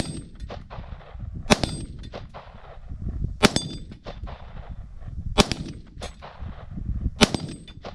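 Repeated shots from an AR .223 pistol ring off steel targets on an outdoor critter course, each sharp crack followed by a bright metallic clang, coming in irregular bursts with pauses between them.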